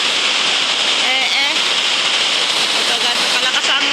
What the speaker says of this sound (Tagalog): Ito kalakas ang ulan